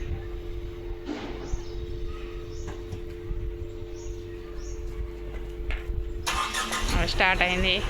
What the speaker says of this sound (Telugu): కార్ స్టార్ట్ అయింది.